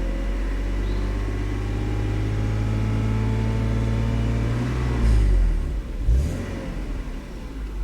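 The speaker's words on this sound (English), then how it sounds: "I'm just going to step on the gas a little bit and" A Volvo engine idling with a low steady rumble, then revving up sharply as the gas pedal is pressed, with a second shorter blip after it, close and loud.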